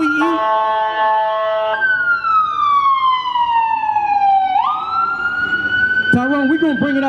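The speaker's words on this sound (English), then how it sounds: "How did we get here where every 2 seconds is a dang ambulance going past?" A loud, close ambulance siren passes by, first wailing, then sweeping down in a long falling tone before climbing again, with a person talking over it near the end.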